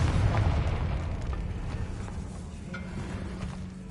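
Confringo explosion spell in Hogwarts Legacy, a loud booming blast at the start that decays into a rumbling tail over a few seconds.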